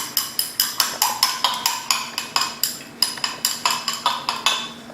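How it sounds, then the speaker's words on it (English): A glass stirring rod swirls a calcium carbonate and water solution in a glass beaker, producing about twenty quick, evenly spaced clinks against the glass, close and clear with no talk. "So we get another stirring rod and stir."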